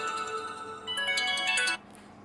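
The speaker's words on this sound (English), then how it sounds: "I forgot to turn my phone off." A mobile phone ringtone plays a bright electronic melody of rising notes for under two seconds, moderately loud, then cuts off abruptly.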